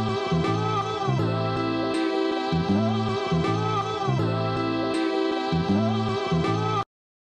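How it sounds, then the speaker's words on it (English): Short chops lifted from different sections of a music sample, looping in a steady bar-length pattern of bass pulses and layered harmonic tones, loud and alone, stopping abruptly near the end. "I used different chops from different sections of the sample just to add some variation,"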